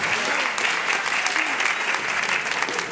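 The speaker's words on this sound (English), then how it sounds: "I hear claps to the room with that" Steady applause from an audience filling a room during a Black graduation keynote, a dense even patter of many hands clapping throughout with a faint murmur of crowd underneath.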